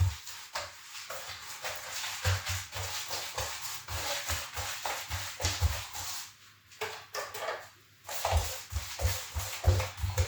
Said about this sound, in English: Don't be afraid to put pressure on the brush.